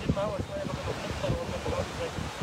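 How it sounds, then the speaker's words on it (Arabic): Sea waves wash onto the beach at Port Said under gusty wind buffeting the microphone, a steady roar with low rumbles, while people talk nearby. "وجايين على البحر هنا تغيروا جو؟"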